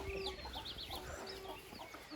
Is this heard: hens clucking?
yes